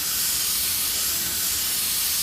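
A third coat of white paint spray painted onto a motorcycle fairing: a steady, close, loud hiss of the spray gun runs unbroken from start to finish.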